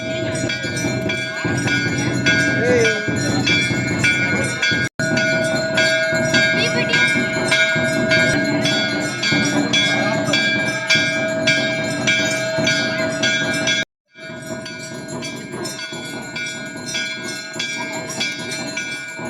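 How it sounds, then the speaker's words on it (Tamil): A temple bell at a family shrine rings loudly and continuously with a sustained metallic tone, broken only by two brief dropouts. "எங்கள் மேடமுக்கு கோயிலில் அந்த பெல் சவுண்டு கேட்குது."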